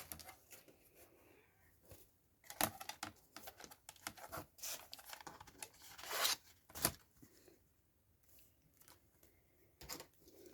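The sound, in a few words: cutting patterned paper section for collage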